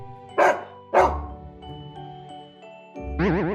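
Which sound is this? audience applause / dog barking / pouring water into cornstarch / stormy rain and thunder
dog barking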